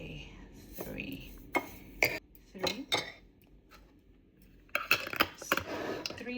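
A metal spoon scoops and clinks against a container while measuring tablespoons of chia seeds, close and intermittent, with scraping and light clatter and soft speech in between.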